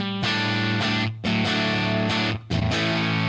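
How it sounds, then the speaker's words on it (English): A Marshall amp plays an electric guitar with the distortion box switched off. Clean, ringing chords are strummed close and loud, with a few brief gaps between them, and no one talks. "So that's good Marshall clean sound, right?"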